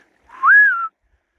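A single short rising-then-falling whistle from a person outdoors, aimed at a seal, clear and close, alone against silence.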